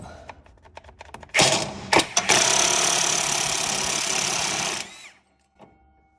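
A 15mm wrench and socket working loose a rusted nut, heard as a sustained loud grinding mechanical whir lasting several seconds after a few light clicks, then cutting off abruptly.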